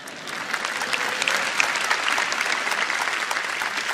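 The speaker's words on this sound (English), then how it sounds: "You can applause," Audience applause at a live Samsung Galaxy Note 9 launch event, a broad wash of many hands clapping in a large hall, steady and moderately loud.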